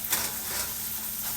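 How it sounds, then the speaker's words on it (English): Steady hissing sizzle of beef fat rendering in a hot pan for gravy, close and continuous, with faint crackles. "this is heating up really well and it's sizzling"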